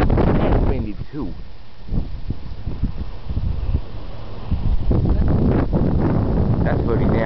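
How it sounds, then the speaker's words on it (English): Gusty wind ahead of an approaching storm in South Bend, Indiana roars and buffets the microphone in loud low surges, with people talking intermittently over it. "It's windy too."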